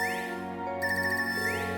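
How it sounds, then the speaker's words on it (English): A phone ringtone from the video game Trails of Cold Steel 3: a steady electronic tone over a sustained musical background, with a bright repeating warble joining partway through. No voices. "This ringtone, I haven't heard this before."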